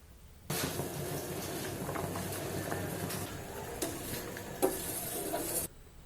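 A steady, busy bubbling and hissing of liquid boiling in a pot, continuous throughout with a faint clink or two.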